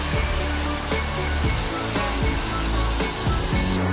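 A waterfall on a hiking trail roars in a steady, dense rush of water, loud and close, unbroken for the whole stretch with no voices over it.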